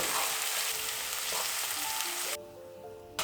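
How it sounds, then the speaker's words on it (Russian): Onion frying in hot oil, a steady close crackling sizzle that runs continuously, with a brief drop in level near the end. "Отправляю лук в горячее масло и обжариваю буквально пару минут."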